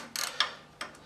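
Ratchet on an extension bar loosening the oil filter on a Harley-Davidson Fat Bob, giving a few quick close clicking bursts in two pairs with brief pauses, no talk.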